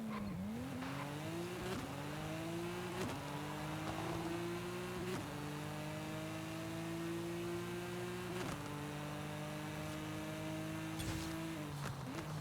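A Porsche 911 Turbo S engine from Forza Horizon 5 screams through a half-mile drag run, its pitch climbing and dropping through several quick upshifts, loud and continuous with a faint tire chirp at launch.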